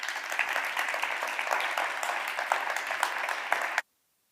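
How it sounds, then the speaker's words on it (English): An audience at a live-streamed research presentation welcomes a speaker with steady, fairly faint applause of many hands clapping, then the clapping stops abruptly into silence. "Please, everyone, welcome Mara with a big round of applause."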